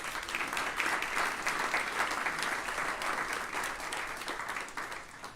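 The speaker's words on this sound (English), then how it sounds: "let's just applaud" Sustained applause from an audience at a downtown civic presentation in Asheville, steady dense clapping filling the room at moderate level for several seconds without letting up.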